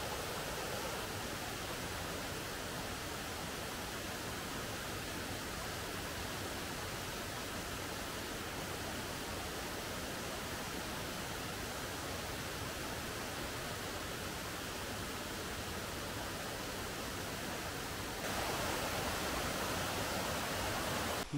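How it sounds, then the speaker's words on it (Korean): Continuous rushing water of a mountain stream among waterfalls in a mossy valley on Gariwangsan, Korea, a steady broadband wash, unchanging and uninterrupted, with no voices. "물소리가 잦아들기 시작했습니다."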